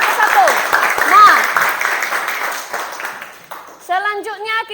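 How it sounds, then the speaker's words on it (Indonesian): A class of students claps for a group presentation, a brief burst of applause that fades over about three seconds before a voice takes over near the end. "tepuk tangan untuk kelompok 1"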